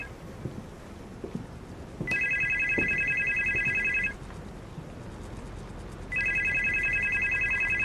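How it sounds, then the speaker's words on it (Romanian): Telephone ringing in a horror video game, two long electronic trilling rings separated by a pause, over a low windy background hum. "Sună telefonul."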